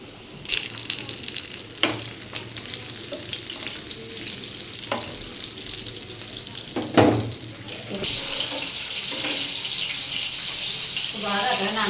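Bay leaves and dried red chillies fry in hot oil while preparing a raw hog plum (amra) dish, giving a steady sizzle with occasional stirring scrapes and a louder spatter burst near the middle.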